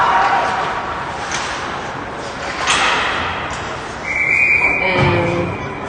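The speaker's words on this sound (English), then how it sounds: "And the puck pops up and there's a whistle." Short referee whistle at a 16U youth hockey game, a thin high tone near the end of the clip heard over steady arena crowd noise and a commentator's voice.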